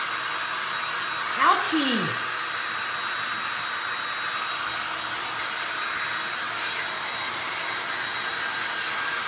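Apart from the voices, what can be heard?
heat gun blowing to dry resin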